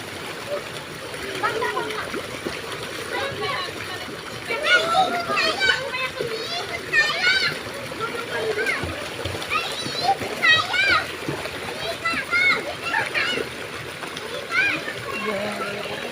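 Splashing and sloshing water from people swimming in a pool at night, a continuous lively wash of noise with children's voices and chatter throughout.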